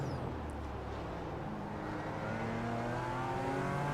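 A BMW race car in iRacing accelerating, its engine note droning and climbing steadily in pitch, loud and continuous with no voice over it.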